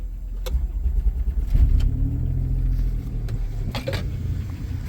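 A 1991 Dodge Grand Caravan that sat abandoned for over 21 years cranks briefly and fires up in the snow, then settles into a low, quiet, steady idle heard close by.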